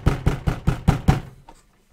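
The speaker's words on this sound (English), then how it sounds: "He's gonna like kind of bang on your door." Six heavy, evenly spaced bangs on a door, loud and close with a booming low thud to each, followed by a faint fading sound after the last knock.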